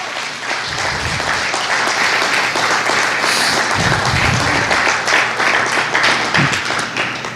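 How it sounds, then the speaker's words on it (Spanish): A church congregation claps loudly in sustained applause, a thick, even roar of many hands that rises slightly in the middle and continues steadily to the end. "Vamos a darle un aplauso al Señor."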